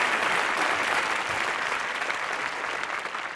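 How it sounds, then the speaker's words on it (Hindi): Studio audience applause for chefs Sanjeev Kapoor and Vikas Khanna on a comedy TV show: dense, steady clapping from a large crowd, loud and sustained, fading slightly toward the end. "जोरदार तालियां"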